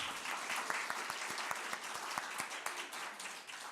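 A church congregation applauds steadily, many hands clapping together in a sustained, moderately distant burst with no talking.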